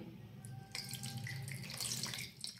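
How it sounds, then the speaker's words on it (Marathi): Water is poured into a dried coconut shell bowl to wash it during modak preparation, a close, steady splashing stream with bright spattering bursts and no voices. "इथे मी पाणी टाकून घेतले खोबऱ्याच्या वाटीला आणि ही वाटी आपण आता स्वच्छ धुवून घेणार आहोत"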